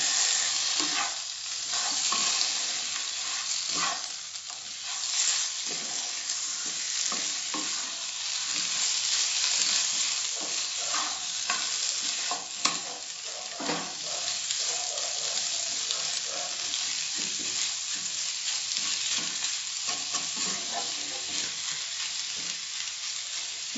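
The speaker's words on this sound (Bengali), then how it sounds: "ভালো করে মিশিয়ে নেবো মশলার সঙ্গে।" Chicken and spices get stirred in a hot pan, a continuous sizzle layered with repeated scraping strokes of a spoon, close and steady with no talk.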